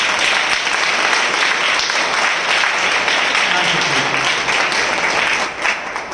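A church congregation claps together in praise, a continuous, even wash of many hands clapping without speech, tapering slightly at the very end.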